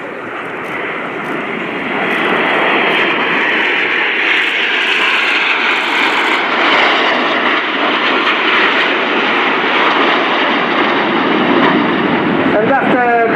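Frecce Tricolori aerobatic jets crossing at the RIAT airshow, a loud, continuous jet roar that builds and holds for many seconds, with an announcer talking over it.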